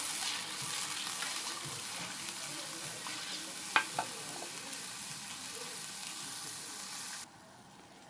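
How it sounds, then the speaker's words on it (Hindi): Beef trotter (paya) pot with bone stock being stirred in, a steady broadband sizzle and liquid churn throughout, with a couple of brief sharp utensil knocks midway before the sound drops away near the end. "अब हम इसके अंदर ऐड करेंगे स्टॉक। तो अच्छे से हम मिक्स करेंगे।"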